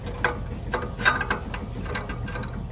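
Ratchet socket wrench with a 7/8 inch (22 mm) O2 sensor socket loosening an oxygen sensor, a close run of rapid metallic ratcheting clicks in short bursts, with no speech.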